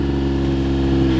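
A kei truck engine revs steadily while the truck spins donuts in the snow, a continuous loud, close mid-pitched drone with no break.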